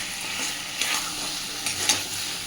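Potatoes being stir-fried with spices for aloo dum, a steady close sizzle with scraping stirs and small clinks throughout.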